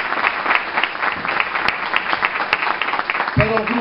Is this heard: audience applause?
yes